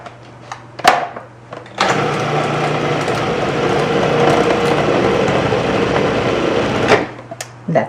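A blender or electric mixer whirs steadily and loudly for about five seconds, with clicks and knocks before and after it runs.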